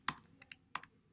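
A few keys are tapped on a computer keyboard, quiet, close clicks in two small bursts with a short gap between them.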